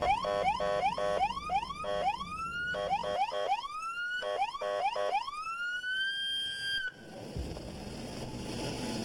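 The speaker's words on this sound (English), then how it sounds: "Trooper sirens can reach around 120 decibels, equivalent to sitting front row at a rock concert." A loud Alaska State Trooper police siren cycling rapidly through rising wails and yelps, close by, then cutting off into rumbling traffic noise.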